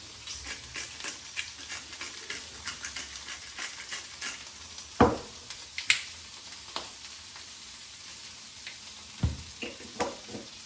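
Jumbo prawns sizzle and fry in a pan, a steady crackling hiss with occasional louder pops and stirring clatters, close and without talk.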